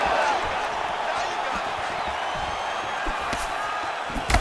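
Arena crowd roaring steadily in a simulated UFC women's featherweight bout between Rose Namajunas and Tracy Cortez in Denver, a dense continuous crowd wash with scattered impacts throughout, loud and sustained.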